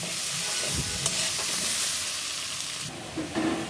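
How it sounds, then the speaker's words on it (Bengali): Papaya and ginger fry in hot oil while being stirred, giving a steady close sizzle broken by a few scraping stirs of the spoon. "আদাটা দেওয়ার পরে আমি পেঁপেটা অনেকক্ষণ ভেজে নিব, 2-3 মিনিটের মতো, যাতে আদাটা ভালো করে ভাজা হয়ে যায় তেলের সাথে।"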